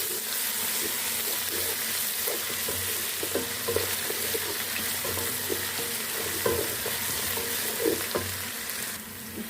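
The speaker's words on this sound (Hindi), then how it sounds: "इसको भी हम फ्राई कर लेंगे अच्छे से।" Garlic and ginger fry in hot oil for aloo palak, giving a loud, constant sizzling hiss with scattered soft scraping from stirring.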